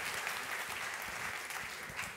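Audience applause at a conference party keynote during a card magic trick, steady dense clapping from a crowd filling the whole stretch without a break.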